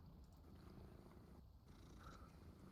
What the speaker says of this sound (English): You do hear her purring.